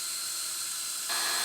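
Power drill boring a tap hole into a maple tree: a steady, loud high-pitched whine that grows harsher and brighter near the end, alone without talk.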